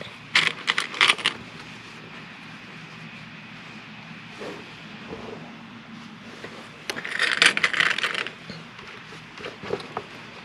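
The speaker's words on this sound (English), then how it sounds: "I'm going to go ahead and actually zip this and clip it." A zipper is pulled closed and then clipped shut, giving two bursts of quick scratchy, clicking rattles separated by quieter handling noise, close to the listener.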